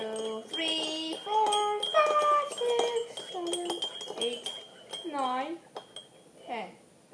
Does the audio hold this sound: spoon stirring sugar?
yes